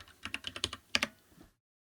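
A run of quick computer keyboard keystrokes, close and crisp, as a short word is typed in music software, with a couple of firmer final taps before the clip falls silent.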